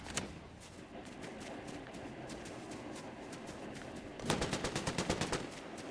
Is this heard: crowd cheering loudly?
no